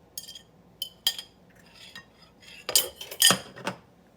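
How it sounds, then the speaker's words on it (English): Egg mixed into peanut butter in a bowl with a utensil, heard as scattered clinks and scrapes against the bowl, short bursts with quiet gaps, close by. "So I'm going to give it a little mix. We're going to add it to our peanut butter."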